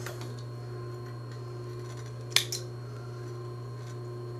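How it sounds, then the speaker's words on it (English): Thread snips cut sewing thread while a DIY hen saddle for a chicken is being made: one short, crisp snip near the middle over a steady background hum. "let's clip our threads"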